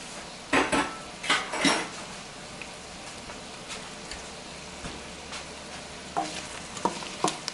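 Garlic and mushrooms drop into a soup pot of leftover turkey soup and are stirred, giving soft scraping and clinking of a utensil against the pot over a faint sizzle, close and intermittent, with no voices.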